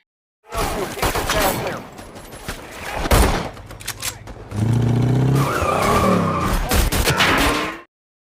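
Gunfire and car action from the film Silent Night, with bursts of loud shots, engine roar and screeching tires, punctuated by sharp impacts and intense movie sound effects close up.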